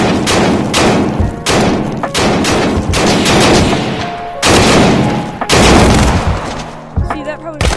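Rapid automatic gunfire in the VR shooter Tactical Assault VR comes as dense, loud bursts of shots separated by brief pauses, with sharp, close thumps and a few short gaps between strings.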